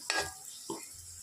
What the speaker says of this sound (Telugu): శనగపప్పు కూడా ఆయిల్లో బాగా ఫ్రై అయిపోయింది